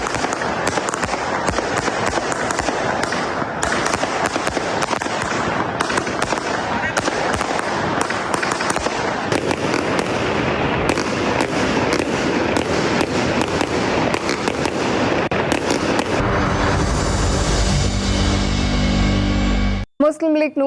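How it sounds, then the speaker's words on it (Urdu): Fireworks burst at an outdoor political victory celebration with sweets being handed out, a dense, loud, continuous barrage of cracks and bangs for most of the stretch, ending in a rapid crackling run before cutting off. "آتش بازی نے سما باندھ لیا"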